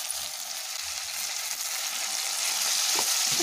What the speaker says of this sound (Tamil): புளியும் தேங்காயும் சேர்த்து வதக்கிக்கலாம்